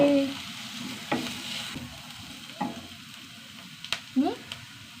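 Curry leaves and onions sauté in a pan, giving a soft, low sizzle with intermittent clicks and scrapes of a spoon stirring, plus a brief tone at the start.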